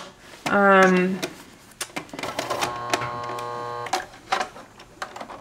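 Sewing machine stitching purse handles, a short motor whir followed by steady mechanical stitching with a faint hum, broken by small clicks and handling noises, close by.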